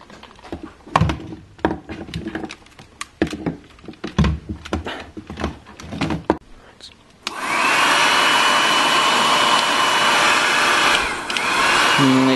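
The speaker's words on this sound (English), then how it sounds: "Let's see if this hairdryer works." Clicks and knocks in a workshop give way to a single-speed hair dryer switching on, a loud steady whoosh that runs continuously to the end.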